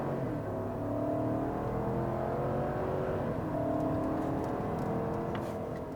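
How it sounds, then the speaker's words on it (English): A 2025 GMC Yukon AT4 with the 6.2-liter V8 accelerates hard in sport mode on an empty road, the engine note climbing steadily through rising gears with a brief dip at a shift, loud and sustained. "Oh, nice V8 power."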